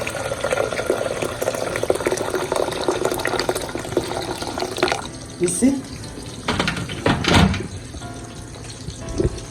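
Boiling water pours steadily into a dish for several seconds while cooking an African dish, then a few clinks and a brief voice interrupt the quieter moments.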